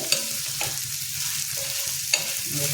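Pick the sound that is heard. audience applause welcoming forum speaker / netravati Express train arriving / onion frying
onion frying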